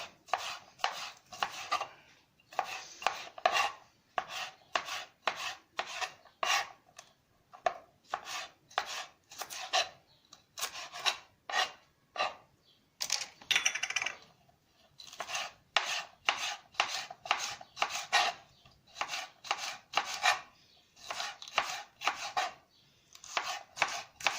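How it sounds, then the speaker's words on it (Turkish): A knife julienne-chops peppers steadily on a cutting board in quick bursts of rapid strokes with short pauses between them, close up and without any talking. "Julian usulü doğrayacağım biraz."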